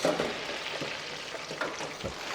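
Fries deep-frying in a home fryer give off a steady close bubbling hiss of hot oil, continuous and even with small crackling pops, no voices.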